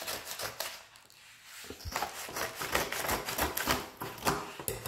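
A parcel from Vinted being opened by hand, with close crinkling, tearing and sharp tapping and scraping of packaging in irregular bursts, no voices.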